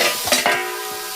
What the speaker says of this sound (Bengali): এখন মিডিয়াম টু লো ফ্লেমে এগুলোকে একদম মিশিয়ে নেব